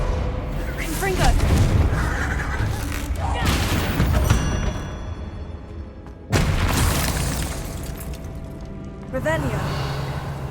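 The Confringo fire spell in Hogwarts Legacy bursts into several loud, booming explosions spaced a few seconds apart, each with a sharp onset and fading rumble, while a person talks over the game sounds.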